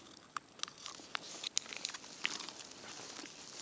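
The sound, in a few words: rain starting to patter in a spruce forest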